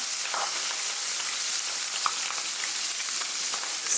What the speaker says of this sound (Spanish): Ahora que el ajo está un poco frito, se pone el atún, bajando el fuego para que no queme.